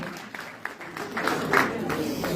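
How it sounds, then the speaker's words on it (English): An audience applauds for the first lady of Edo State at a gathering, scattered claps building into a denser round of applause in the background. "A round of applause for our first lady"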